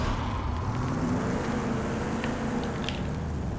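A vehicle in the game Rage 2 gives a steady low engine rumble with road noise beneath it and a few faint clicks, no voices present.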